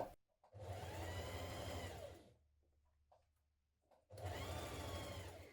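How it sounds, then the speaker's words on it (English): Two bursts of sewing machine stitching on a funnel neck of a top, each a loud steady whir lasting a couple of seconds, separated by a quiet pause with faint handling sounds. "Stitch your neck, your funnel neck, in place."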